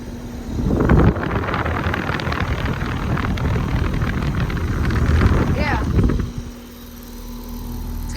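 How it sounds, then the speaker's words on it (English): Compressor of a 2002 Tappan Nordyne KA series air conditioner with a frozen suction line, running outdoors as a steady low hum under heavy wind buffeting and someone talking, then quieter near the end. "It's got a nice compressor sound."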